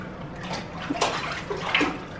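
A one-year-old child splashes bathwater in a tub: a steady wet sloshing with several brighter splashes at intervals, close by and at moderate level, with no voices.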